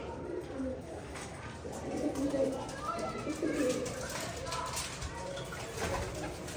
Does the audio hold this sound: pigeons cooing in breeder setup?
yes